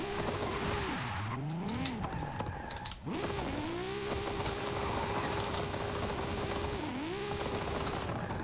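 Tires spinning and squealing in a burnout on a 2012 Nissan GT-R Black Edition in Forza Horizon 5, a steady engine drone with rising and falling pitch sweeps, briefly dropping out near the middle before resuming loud and continuous.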